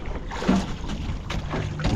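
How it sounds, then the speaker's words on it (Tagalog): A boat on open water, with a steady low rumble and wind buffeting the microphone. "Dalawang bangka."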